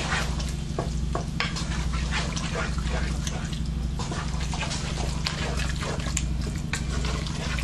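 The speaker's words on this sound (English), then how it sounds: "You stir it in." Canned ingredients being stirred into a pot for spaghetti, with repeated scraping spoon strokes over a steady low hum, close and moderately loud.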